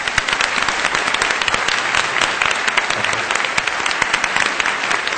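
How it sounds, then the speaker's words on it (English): An audience at a formal debate event applauds, giving steady, dense clapping that is loud and close and carries on without a break. No speech is heard over it. "I'd like to invite a round of applause"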